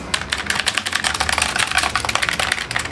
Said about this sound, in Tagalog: So, rinig na rinig talaga pag nagtatype ka.